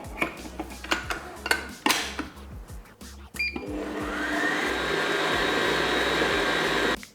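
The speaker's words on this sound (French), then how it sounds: "je récupère ma ganache qui a bien refroidi et je la mets dans la cuve. Ensuite, je la foisonne à l'aide du fouet." A stand mixer whisk whips chilled ganache in the bowl, first clattering in bursts against the metal bowl, then settling into a steady loud whirring hum before stopping abruptly.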